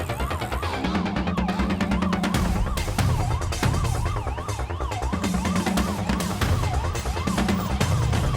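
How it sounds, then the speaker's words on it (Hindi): A police siren wails in steady rising and falling sweeps from a scene in a Hindi-dubbed South Indian action film, blended with loud, continuous background music throughout. "ए, पुलिस का सायरन है।"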